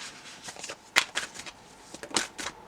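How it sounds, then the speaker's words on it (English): Wild Unknown tarot cards being laid out and shuffled make brisk papery slaps and soft swishes, several sharp card snaps standing out among quick shuffling rustles, close and fairly quiet with no voices. "I'm going to get these cards laid out"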